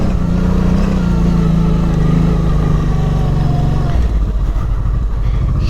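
A Honda Transalp 650 motorcycle engine drones loud and close while riding, a steady throbbing hum that drops slightly in pitch partway through, with wind rush throughout.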